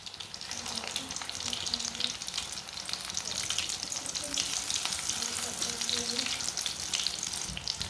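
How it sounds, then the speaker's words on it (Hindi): Potato and capsicum kebabs browning in a pan, with a continuous crackling sizzle and a few soft stirring and turning sounds, at moderate level and without speech. "ऐसे इसे उल्टते पुलटते ब्राउन कर लेना दोनों साइडों से।"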